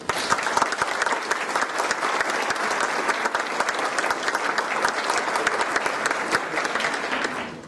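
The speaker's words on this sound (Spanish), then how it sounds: "para quien pido un fuerte aplauso" A lecture audience at a history talk on the Battle of Zacatecas applauds the speakers with steady, full clapping from a crowd, evenly sustained and fairly close, with no voices over it.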